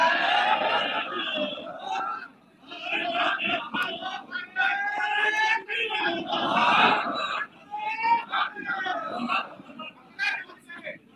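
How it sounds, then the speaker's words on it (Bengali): A crowd at a political rally chants slogans in unison to welcome the chief guest, loud rhythmic shouted phrases repeating with short pauses between bursts. "আমরা স্লোগান দিয়ে তাকে বরণ করতে চাই।"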